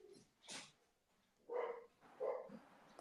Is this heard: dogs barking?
yes